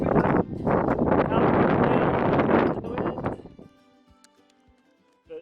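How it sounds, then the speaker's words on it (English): Wind gusts across the summit of Ben Vane, a Scottish mountain, roaring loudly into the microphone for over three seconds before dropping to near quiet. "It's a bit breezy up here. I don't know if you can hear it."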